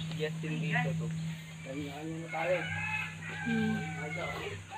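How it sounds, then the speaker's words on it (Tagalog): Chickens clucking in short bursts at a resort in Pansol while people talk nearby, with a low steady hum running underneath. "Kakaiba yung mga manok."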